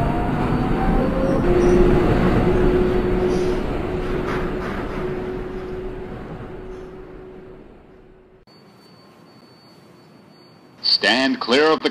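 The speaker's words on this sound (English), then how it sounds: "This is a Brooklyn Bridge bound 6 express train." An R142A subway train in the Hmmsim 2 game runs on the 6 line with a loud rumbling roar and a steady whine, fading as it slows. It then goes quiet before a recorded announcement voice begins.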